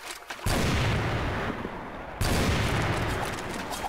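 Sustained gunfire in CrossFire Vietnam: a loud, continuous burst of automatic fire cuts in, pauses briefly, and then resumes at full strength.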